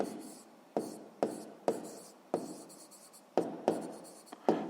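A pen scratches out numbers on paper during a sixth-grade maths lesson on proportions: a string of quick, close, dry strokes in short bursts with brief pauses, and no voice.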